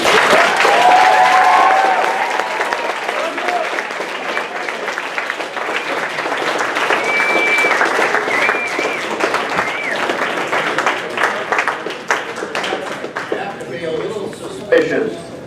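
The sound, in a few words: audience applauding a World War II veteran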